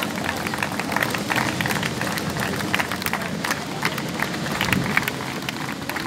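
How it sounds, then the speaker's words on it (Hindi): Dense, steady crowd noise fills the clip at a Nehru Yuva Kendra event in Bhojpur as spectators keep clapping, a continuous rain-like patter of many hands without pause. "तालियां बजाते रहे सारे दर्शकों की"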